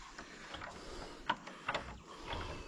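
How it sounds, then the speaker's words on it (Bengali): A monastery gate lock is worked open with faint metallic clicks, rattles and a few sharper clunks, quiet and close with no speech. "এই প্রথম আমি কোনো মনিস্ট্রি গেট খুলছি।"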